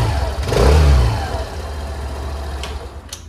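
A Suzuki Avenis 125 scooter engine idles close by, swells in one short rev and then settles back to a steady idle.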